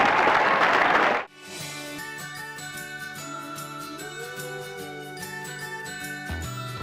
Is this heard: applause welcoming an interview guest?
yes